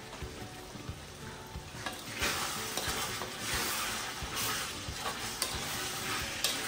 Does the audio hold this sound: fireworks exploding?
no